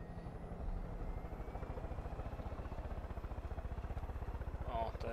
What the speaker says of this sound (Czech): Vezmeme vrtulník. Letíme tam.